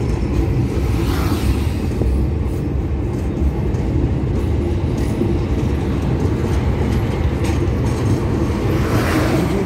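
A train crossing the Jamuna bridge in Bangladesh, heard from on board: a loud, continuous rumble with rattling wheel noise that holds steady for the whole stretch.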